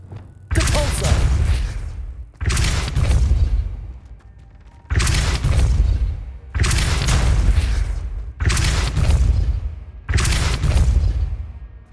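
Depulso repelling spell cast in a Hogwarts video game, heard as six loud booming blasts with a whooshing burst, spaced roughly every two seconds, with brief quieter gaps between them.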